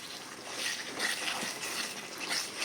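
Boiled water being poured into a date and lime pickle, a soft steady trickling and splashing that swells and eases in gentle waves, faint and close.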